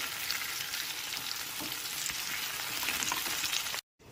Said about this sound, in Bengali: আলু পটলগুলোকে খুব ভালো করে নেড়ে চেড়ে নিতে হবে।